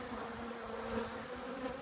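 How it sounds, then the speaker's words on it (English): Honeybee emerging from a capped brood cell in a hive, with a steady, soft insect buzz droning continuously and faintly, no voices over it. "a bee is emerging"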